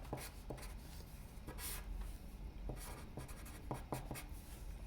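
Faint scratching of a pen or pencil writing out a math fraction on paper, with soft irregular strokes and taps close by against a low background hiss, with no talking.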